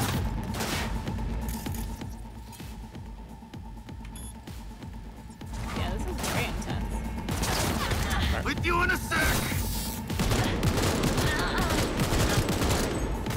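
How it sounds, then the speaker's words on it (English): Intense gunfire in a futuristic Cyberpunk 2077 battle: dense fusillades and machine-gun bursts with booms, loud and continuous across the whole stretch, thickening toward the end, with voices talking over the fighting. "hacking their optics and then shooting them"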